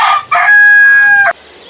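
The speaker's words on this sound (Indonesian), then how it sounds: "Wadidaw, ternyata ayam jago." A rooster crows once, loud and close, in a long sustained call with a brief opening note, set in a play scene with toy vehicles.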